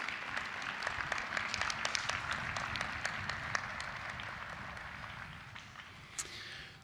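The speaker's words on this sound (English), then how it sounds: "Round of applause, please." Applause from a crowd at a university commencement ceremony, a steady patter of many hands clapping that holds for several seconds and thins out toward the end.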